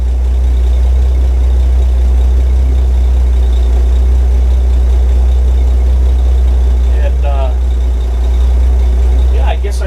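A steady low engine idle drones throughout, loud and constant, with a few faint mechanical chirps near the end.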